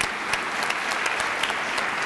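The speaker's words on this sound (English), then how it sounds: "Give him a round of applause." Audience applause at a public talk on partisan gridlock and solutions, steady sustained clapping from a crowd, fairly close and filling the whole moment without speech.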